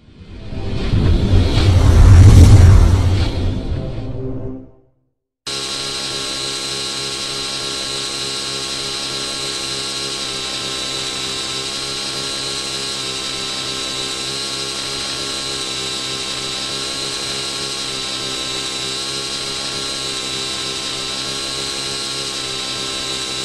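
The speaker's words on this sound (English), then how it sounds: "This is a continuous forward flip where we'll be holding the elevator on for the entire maneuver and using the collective to balance the helicopter in the air." An RC helicopter holds a continuous forward flip: a brief loud broadband rush, a moment of silence, then a steady, close, high rotor and motor whine with rich harmonics, sustained evenly without voices.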